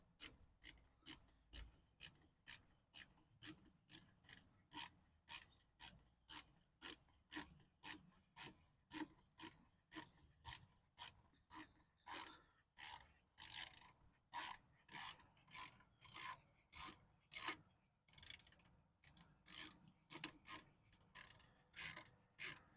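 A ratchet loosens a brake caliper bolt on a Sprinter van's front brakes, giving a long run of rapid, steady clicking strokes close by, with brief pauses between bursts and no talk.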